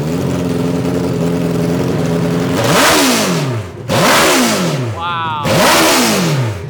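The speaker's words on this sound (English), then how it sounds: "asked us if it was always this loud with the Hayabusa truck" A mini truck with a swapped-in Hayabusa motorcycle engine revs loudly in three sharp bursts, each climbing and then dropping away, after a steady idle. A person briefly exclaims.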